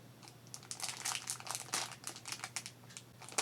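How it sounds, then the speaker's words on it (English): Craft material packaging crinkles in quick, close, irregular bursts of plastic rustling over a low background hum, fairly quiet, with no talking. "Sorry about all that crinkling and stuff."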